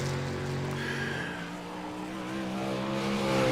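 A 305 Outlaw Series race car laps a track in iRacing, its engine a steady, sustained drone with harmonic whine holding close and loud throughout, swelling slightly near the end.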